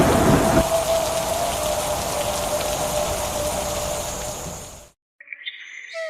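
Light rain patters steadily on surfaces with a low rumble of distant thunder, fading out before a brief quiet gap and a few faint sounds at the end.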